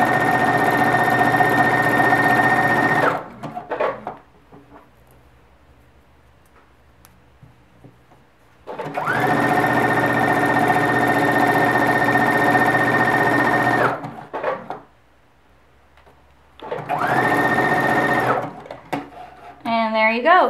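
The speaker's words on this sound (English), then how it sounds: "That is so helpful to be able to just tap the foot pedal once and then it'll drop the needle." A sewing machine gathers fabric with clear elastic, its motor running loud in three sustained bursts of several seconds each, separated by near-quiet pauses.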